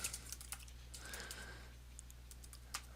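Someone types on a computer keyboard, a quiet run of light key clicks, irregular and close, over a low steady hum with no talking.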